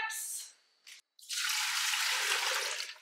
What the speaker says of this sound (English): This is filtered water also that I'm getting out of my fridge.